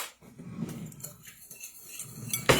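A utensil clinks and scrapes inside a bowl, stirring seasoning salt, adobo, onion powder, garlic powder and black pepper together, with soft close taps and a brighter knock at the end.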